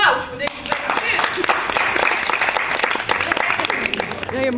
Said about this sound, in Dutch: Applaus voor deze.